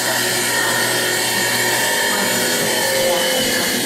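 A washing machine on its spin cycle with a worn bearing gives a steady, loud mechanical roar and grinding hum that runs unbroken and close by, with no talk over it.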